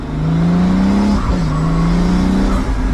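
Roof scoop intake noise from a Ferrari SP3 or Pagani Huayra supercar, a loud close droning engine roar with a steady tone that dips briefly and climbs again.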